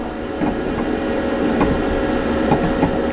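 A 2.2 kW diesel heater runs inside a camper van, giving a steady, fairly loud rumbling whoosh with faint rhythmic ticking pulses roughly every second, heard with no talk.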